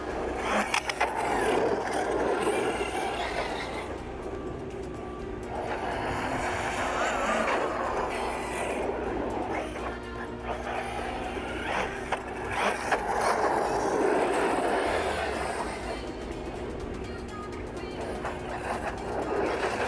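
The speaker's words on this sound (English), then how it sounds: "I love the way particular off-road tires sound on road. I love the way they grip and this noise." A Team Corally Jambo XP 6s RC car runs on pavement with glued off-road tires, giving a continuous gritty rolling roar that swells and fades as it passes, loud and close throughout.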